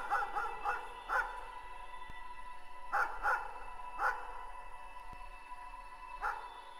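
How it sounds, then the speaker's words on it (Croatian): A dog barks in short bursts, single yaps and quick doubles spaced irregularly over several seconds, fairly clear against a quiet indoor background with a faint steady hum. "čuje se pas kako laje."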